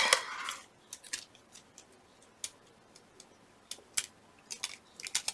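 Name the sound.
small brass scissors cutting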